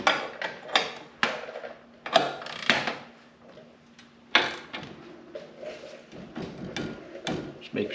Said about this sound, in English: I'll torque the middle one first, and then I'll just do each side.